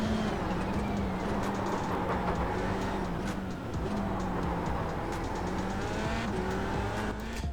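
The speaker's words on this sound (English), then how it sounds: "around the apexes here and here, the tires are screaming" An F3 car in the iRacing sim runs through corners at Montreal's Gilles Villeneuve circuit, with a constant loud engine drone and thin high-pitched tire squeal sliding in pitch at the apexes.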